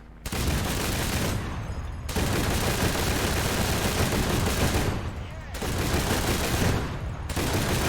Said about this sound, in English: let's just fire these cannons because I want to hear them actually firing